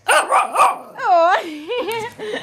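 A dog barks close by in a few sharp yaps, then gives a drawn-out whining howl, with someone speaking around it.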